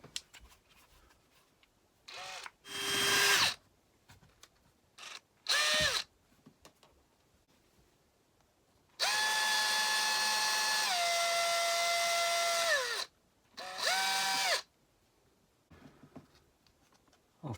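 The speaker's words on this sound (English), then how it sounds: "and drill through the centre." A power drill whirs in short bursts, then one long sustained run, its pitch dipping as it bites through a plastic cover, ending with a final brief burst.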